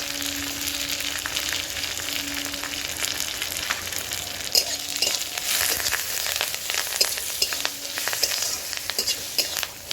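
Steady loud sizzling of spices, curry leaves, turmeric and red chili powder frying in oil in a pan over medium heat, with scattered crackles and occasional stirring scrapes, no voices.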